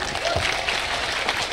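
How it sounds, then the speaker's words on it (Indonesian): Audience clapping at a religious gathering with Gus Miftah and Ivan Gunawan, a dense burst of applause mixed with crowd noise and voices throughout this short moment. "Tepuk tangan tuh Kak Igun."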